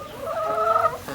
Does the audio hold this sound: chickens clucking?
yes